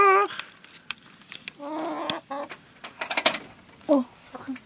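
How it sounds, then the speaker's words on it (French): Several hens cluck nearby in quick bursts, with brief squawks and faint clicking and scratching noises in between. "On va aller voir les poules. Les petites poules!"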